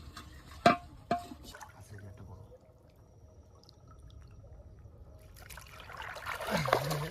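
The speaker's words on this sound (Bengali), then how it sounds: "না হবে এখানে আস্তে আস্তে জল ভরুক।" Water slowly trickling into a pot set out while fishing in a Sundarbans river, a faint soft dribble with a couple of sharp knocks early on and a splashier gurgle building toward the end.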